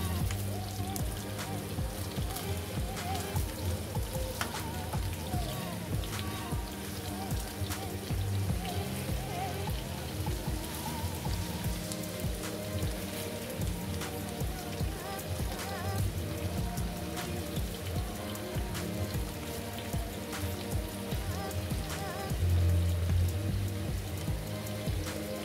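Potato pieces frying in hot oil in a pot, a steady, dense crackling sizzle that continues evenly throughout with no pauses.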